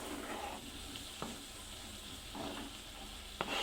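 Chopped boiled eggs sizzle steadily in a pan of fried masala for an egg chutney, with a constant hiss broken by a few light stirring clicks.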